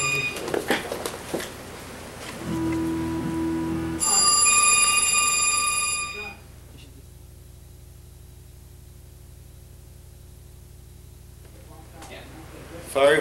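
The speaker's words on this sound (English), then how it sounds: "we're getting a phone call" A telephone rings with an incoming call during a talk show, a short electronic ring tone over static and noise, followed by a long hiss before the sound cuts out.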